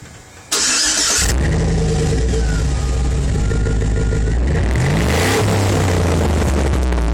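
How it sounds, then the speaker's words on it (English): A pickup truck's exhaust pipes roar to life after a brief quiet moment, then rumble loudly and rev up and down nearby, with no talking over the engine. "I'll let y'all hear the pipes real quick."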